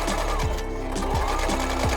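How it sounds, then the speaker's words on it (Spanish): A home sewing machine runs steadily, stitching through a bag being cut down into two smaller bags, its repeated mechanical needle strokes loud and close with no talk. "Yo usaré mi máquina de coser, pero si no tienes, también lo puedes coser a mano."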